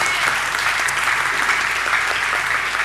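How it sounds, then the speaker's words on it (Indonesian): A church congregation applauds steadily and loudly, a dense wash of many hands clapping at once that fills the hall without a break and carries faint voices mixed in. "Beri tepuk tangan bagi Tuhan."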